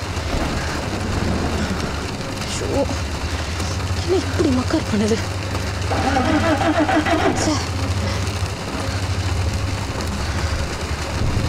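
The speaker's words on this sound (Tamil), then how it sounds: "மழை வேற ஹெவியா இருக்கு." Heavy rain pours steadily in a dense, even hiss across the whole stretch, with people talking over it.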